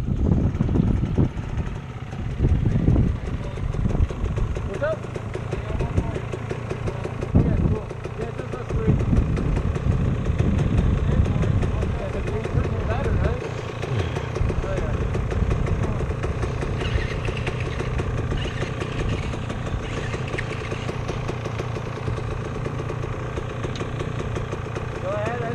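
Steady rumble of an off-road motorcycle engine idling on a trail, continuous and fairly loud throughout, with people talking over it.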